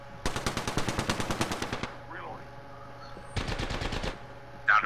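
Automatic weapons fire in the battle royale video game Apex Legends comes in two rapid, loud bursts of evenly spaced shots separated by a short lull, with a faint electronic cue at the end.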